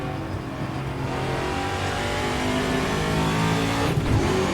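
Virtual Racing Cars TA2 race car in a sim racing game, its engine revving loud and steady throughout, with a rising pitch that climbs under acceleration and a brief dip near the end.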